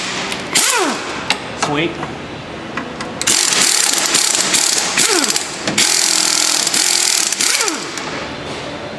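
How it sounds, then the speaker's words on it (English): A ratchet works to loosen a rusty rear shock or strut mount bolt on a 2007-2011 Honda CR-V, giving repeated close clicking pulls, metallic clanks and bursts of louder ratcheting, with a brief spoken word. "Using that same 17, I'm gonna try and loosen this shock or strut mount bolt."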